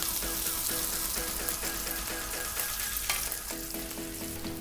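Bacon fries in a pan, a steady close sizzle with crackling pops and a few faint clicks, fairly quiet overall, with no one speaking.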